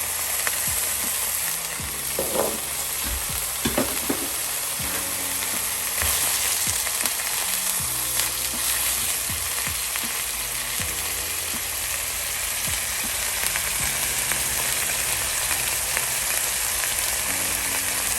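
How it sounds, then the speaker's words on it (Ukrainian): Chicken and bacon sizzle and crackle steadily in a hot pan, with occasional scraping and stirring sounds over the constant fry. "поки курка і бекончик смажаться"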